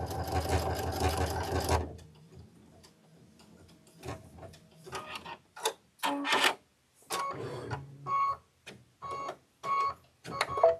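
An embroidery sewing machine stitching a Kimberbell quilt project starts with a dense whir, then gives short bursts of rapid mechanical ticking and clattering separated by brief pauses, close by and moderately quiet.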